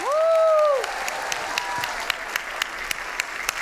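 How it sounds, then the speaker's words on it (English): Applause for author Gill Lewis at a children's book award ceremony, a whooping cheer at the start giving way to steady, even clapping from a large audience with a few sharper claps standing out. "Can we have a huge round of applause for Gill Lewis?"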